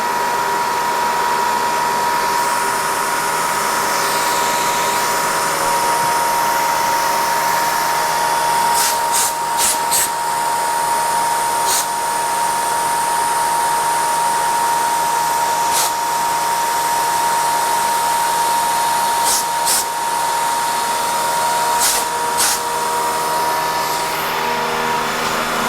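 A Bridgeport CNC milling machine with its tool spinning gives a steady, loud whine with a sustained tone, close by. A few sharp clicks or ticks cut through now and then.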